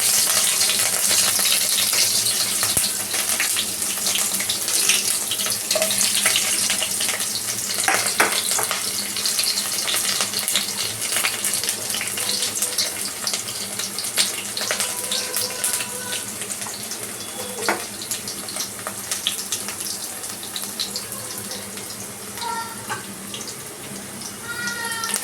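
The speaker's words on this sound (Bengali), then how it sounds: "এবার আমি পেঁয়াজ আর লঙ্কাটা দিয়ে দিচ্ছি।" Onions and chillies sizzle in a hot pan with a loud, continuous hiss and crackle for about twenty-five seconds, close by, with occasional clinks of a utensil.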